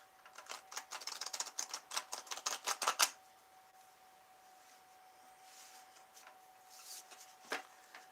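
A deck of tarot cards being shuffled, a quick run of crisp riffling flutters for about three seconds, then quieter, scattered soft card handling and a single tap near the end.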